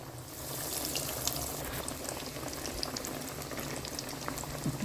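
Chicken bread kachoris deep frying in hot oil over a medium flame give a steady, dense bubbling hiss that runs unbroken and fairly close throughout, with no voices.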